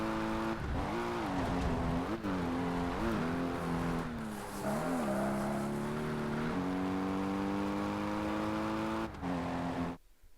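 Race car engine roaring through a qualifying lap on International Rallycross Short in TOCA Race Driver 3, its pitch rising and falling steadily with gear changes and revving throughout before cutting off abruptly at the end.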